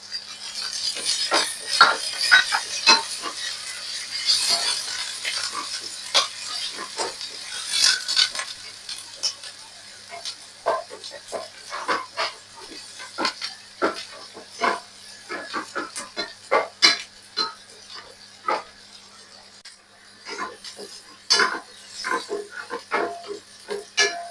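Onions and curry leaves sautéing in a pan for a leek fry: a steady, crackling sizzle full of sharp pops and spits that rise and fall irregularly throughout, with no talking.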